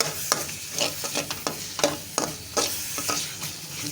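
A spoon stirs roasting poppy seeds (khashkhash) in a pan without a pause, making quick scraping strokes close by with a light sizzle underneath. No one speaks.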